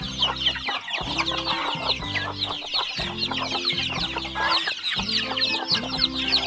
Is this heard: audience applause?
no